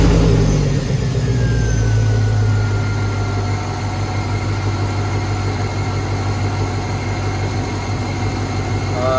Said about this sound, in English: We're gonna go ahead and turn the car on and see the voltage at idle.